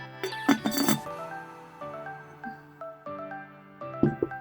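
Ceramic mid-century modern and Fiesta mugs clink together in a few bright bursts, the rings lingering and fading between knocks, close and moderately loud with no talking.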